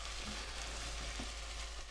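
Garlic fries in a pan as the base for marinara sauce, a soft, continuous sizzle with faint crackles, heard close and quiet with no talking.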